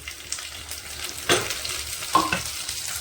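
Chopped green chillies and tomato hitting hot oil in a pan, a soft sizzle with a couple of sharp bursts and clinks as the pieces go in and get stirred, close by with no voices.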